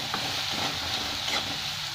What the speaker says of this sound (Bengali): ভালো করে মশলাটাকে এবার কষিয়ে নেবো আমি